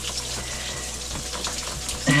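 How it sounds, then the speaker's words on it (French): A small, well-watered stream flowing inside the Gouffre de la Sonnette cave makes a steady close rushing, splashing wash throughout, with a brief voice near the end. "Petit ruisseau bien arrosé, on est vite dans l'ambiance."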